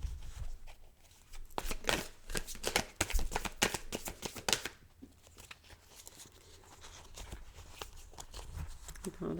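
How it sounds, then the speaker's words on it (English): A deck of playing cards being shuffled and pulled for a reading, with dense, rapid riffling flutters that build and then give way to looser, softer slides and taps, close up and heard without talk. "All right, let me pull 5 cards and we'll see what's going on here."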